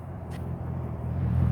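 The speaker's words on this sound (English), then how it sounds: "let this car pass" A car passes on the road, a low rumble that builds steadily louder as it approaches, with a short hiss early on.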